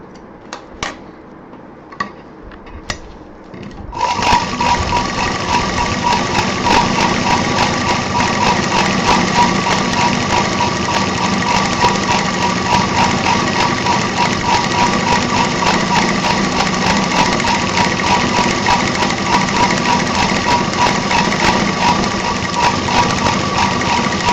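A sewing machine stitches piping onto a handbag. It starts with a few clicks, then runs as a loud, steady, rapid mechanical whir that continues unbroken to the end.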